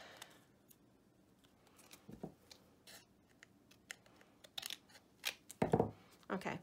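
Scissors snip through cardstock in a few short, crisp cuts while trimming pieces for a rustic shaker card folio, close and fairly quiet, with brief pauses and small handling rustles between snips.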